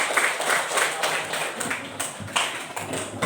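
A classroom of students does a rhythmic clapping game, bursts of group claps in a repeating pattern mixed with a teacher's voice and children chanting along.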